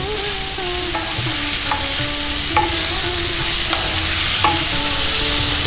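Mixed vegetables fry with salt and turmeric in a pan under a steady, close sizzle, with occasional light scrapes and taps of a spatula as they are turned, and no voices.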